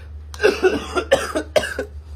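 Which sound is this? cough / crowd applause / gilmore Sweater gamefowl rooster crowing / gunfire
cough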